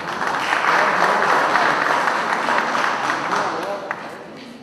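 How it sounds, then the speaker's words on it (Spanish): Audience applause welcoming a doctor to the podium at a property formalization lecture, a dense steady wash of clapping filling the room, fading slightly near the end. "Recibimos con un fuerte aplauso al doctor"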